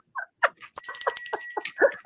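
A small bell rings several times in quick, bright, close strikes, its shimmering tone ringing on between hits before ending in a short final chime.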